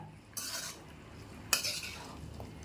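Large meat pieces sautéing in a hot pan, two sharp bursts of sizzling and spatula scraping stirs, close and quiet between the strokes.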